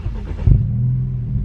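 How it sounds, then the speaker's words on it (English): BMW F30 engine turning over and catching, a short starter burst followed by a steady low idle rumble, close and loud. "Please wait 5 seconds, then start the car."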